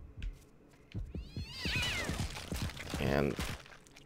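A cat meows several times in the horror game Yomawari: Night Alone, drawn-out wavering cries that are clear and fairly close over quiet game sounds.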